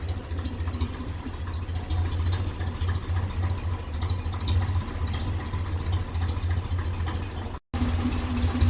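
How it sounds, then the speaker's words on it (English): A 1957 Ferguson 35 tractor engine running on TVO with a weak ignition coil and a slight misfire drones loudly and close in a steady rumbling run, broken by a brief cut near the end. "it's just not happy when it's giving revs, because I think that coil just isn't throwing out the power"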